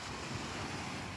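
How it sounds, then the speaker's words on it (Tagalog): Steady, broad rush of sea surf along a planted shoreline, with wind buffeting the microphone throughout and no talking. "Ito ayan dagat"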